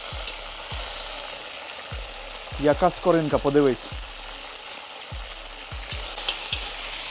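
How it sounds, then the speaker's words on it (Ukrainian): Steady, loud sizzling of meat frying in a cauldron for borscht broth, with a brief stretch of excited talk over it midway. "для бульйону підсмажимо м'ясо"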